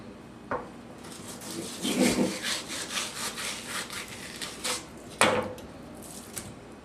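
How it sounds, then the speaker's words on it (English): A knife saws through a medium striped bass, separating the fillet from its skin, in a series of close scraping strokes with a few sharp knocks in between. "Separate the next fillet from the skin."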